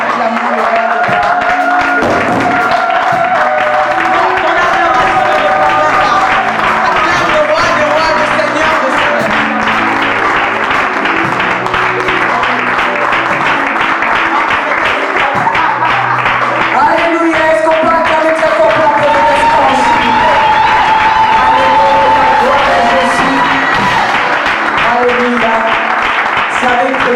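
A church congregation applauds and cheers to acclaim the king during a worship service, sustained clapping mixed with voices, singing and music that runs loud and continuous throughout.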